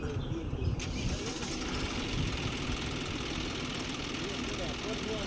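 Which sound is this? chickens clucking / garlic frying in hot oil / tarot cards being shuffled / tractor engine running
tractor engine running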